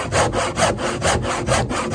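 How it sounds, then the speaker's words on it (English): A handsaw cuts through a rotten wooden fence post in steady, loud back-and-forth strokes, about four even pulls in quick rhythm, heard up close with no talking. "I'm going to go get a handsaw so I can take this piece out in sections"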